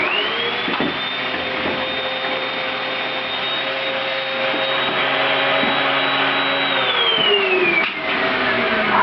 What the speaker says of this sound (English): We'll vacuum first, just a little bit.